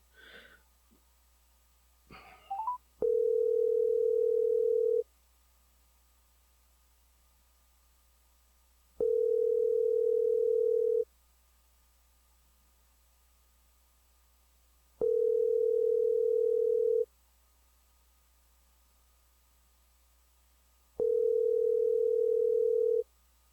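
A telephone busy signal heard during a call, a steady tone pulsing on and off in long regular beeps, loud and clear over near silence after a brief sniff.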